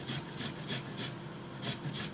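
Ginger root grated by hand for a glutinous rice and mango dessert, a steady rhythmic rasping with repeated strokes about every quarter second, close and fairly loud.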